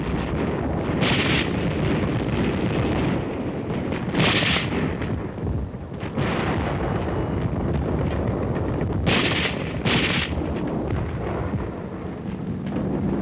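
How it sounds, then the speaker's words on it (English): Korean War Marines laying down a base of fire: dense, continuous rumble of gunfire and artillery with heavy low-end roar and several sharper bursts standing out, steady and loud throughout with no voices. "The Marines form a base of fire to drive the enemy off."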